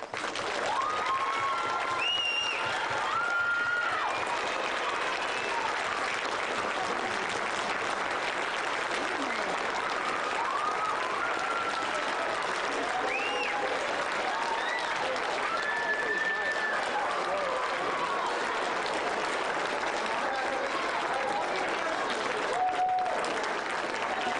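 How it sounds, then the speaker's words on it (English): An audience at a spring band concert applauds in a sustained, dense burst lasting the whole stretch, with scattered cheers and whoops rising over the clapping. "can we get a round of applause for Mr."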